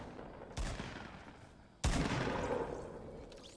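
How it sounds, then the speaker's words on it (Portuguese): Gunfire in the battle royale video game Fortnite, two sharp loud shot onsets with rolling reverberant tails, fairly close, with no talking. "Opa, tiros e mais tiros."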